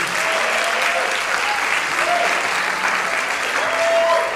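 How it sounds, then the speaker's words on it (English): Steady audience applause fills a Berklee College of Music Winterfest event, dense sustained clapping at constant loudness across the whole stretch with a faint murmur of crowd underneath. "can we first offer up a round of applause of gratitude to the Berklee College of Music?"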